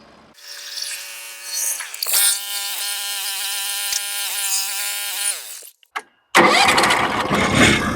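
A sawmill spins up to cut a black oak board, its engine cranking and rising into a steady whining rev with harmonic tones, then cutting off before a loud, rough burst of noise.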